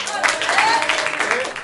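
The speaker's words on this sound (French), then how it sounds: "Un applaudissement pour Game of Thrones." An improv festival audience claps and cheers for Game of Thrones, a loud, dense burst of applause with shouted cheers and whistling mixed in, sustained for the whole short moment.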